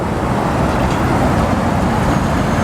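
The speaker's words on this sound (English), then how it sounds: "And here comes the tow truck." A tow truck rolls up to a roadside police stop, its heavy engine and tyres making a steady, close, broadband rumble that blends with surrounding road noise, with no voices.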